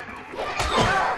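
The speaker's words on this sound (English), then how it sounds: "The only doors he knows is the bangs." A door slams in the video game Silent Hill: Downpour, a single heavy bang with a thudding low impact that swells and rings briefly before fading.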